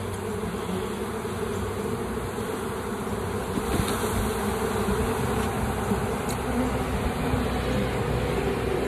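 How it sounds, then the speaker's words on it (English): A dense swarm of honey bees working over crushed beeswax comb from a cutout, a steady loud buzzing drone that fills the whole stretch without a break, close by and with no voices. "I'm letting the bees clean up the comb right now, clean up the wax before I put it in the melter."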